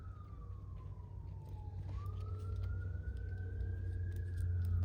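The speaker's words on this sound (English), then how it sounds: "Sorry for the sirens," Emergency vehicle siren wailing at moderate distance in a residential neighborhood, a single continuous tone slowly falling then rising again, growing slightly louder toward the end over a low background hum.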